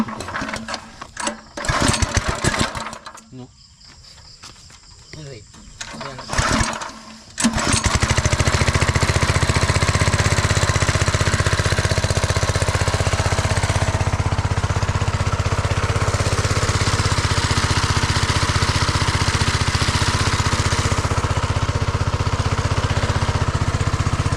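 A small engine runs steadily and loudly for most of the stretch, a constant droning hum that starts abruptly after a few seconds of scattered handling noises.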